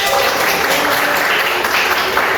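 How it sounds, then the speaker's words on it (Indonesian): Young pupils in a classroom clap their hands together in a loud, dense burst that holds steady throughout the short stretch. "Kita tepuk tangan."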